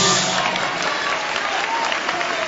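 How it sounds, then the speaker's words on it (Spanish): A church congregation claps in steady, dense applause of praise for the whole stretch, loud and close, with no pause. "Dale ese aplauso de alabanza a Cristo."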